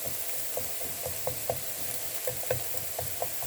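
Potatoes stir-fried in a frying pan while a spatula stirs them, giving a continuous sizzle with light, regular scraping taps throughout.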